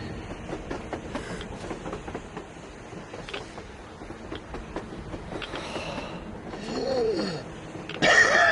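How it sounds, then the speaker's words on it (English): A train in the PS4 video game Metro rumbles and clacks steadily on the surface, with a cough and throat clearing mixed in and a louder swell near the end. "A train! A damn train on the surface!"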